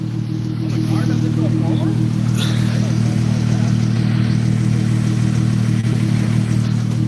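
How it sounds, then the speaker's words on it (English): A 2014 Chrysler 300 police auction car with its engine idling under the hood, a steady low hum that runs smooth and unchanging throughout, with a few faint clicks and light background noise. "Engine is super quiet."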